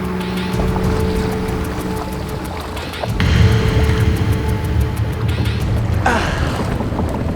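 A motorboat engine runs steadily with wind and water noise, swelling louder partway through as the boat seems to pass closer.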